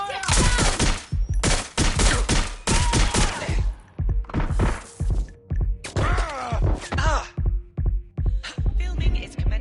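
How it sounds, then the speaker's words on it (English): Gunfire in the Watch Dogs Legion video game: loud bursts of rapid shots and sharp impacts recur through the whole stretch, with grunts and thuds mixed in and no clear speech. "I'm taking fire!"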